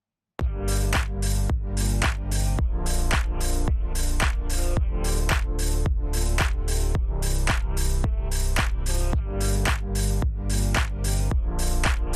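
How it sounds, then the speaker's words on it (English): Short, chopped vocal sample stabs repeat in a steady, even rhythm, bright and punchy, over a continuous chill lo-fi house electronic backing with no speech. "I picked out a vocal chop. It sounds like this."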